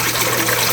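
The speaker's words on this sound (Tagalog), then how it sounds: "lagyan na natin ng tubig" Stored water pouring into a small tank for young tilapia, a steady close, full-bodied gush with no talking.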